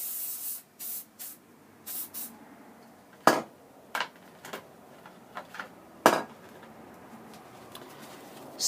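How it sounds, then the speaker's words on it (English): Aerosol tin of copper grease sprayed onto a Honda CX500 brake caliper during reassembly, giving a run of short hissing bursts, several quick ones early and two louder, longer blasts later, close by with no voices. "The spray tins of this copper grease, not great, because it's more aerosol than copper grease."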